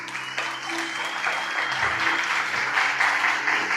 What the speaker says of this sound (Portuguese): uma salva de palmas à palavra de Deus